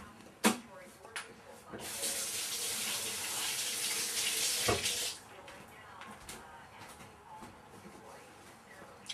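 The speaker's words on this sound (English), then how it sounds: "Wash your hands." Water running from a kitchen tap into a sink while hands are washed, a steady hiss of flow for about three seconds before shutting off, surrounded by scattered clatter and knocks.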